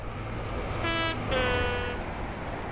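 A Class 43 high-speed diesel train in Train Simulator 2020 on the Paddington to Didcot route passes by with a steady engine rumble and two clear horn tones, the second longer, loud and close.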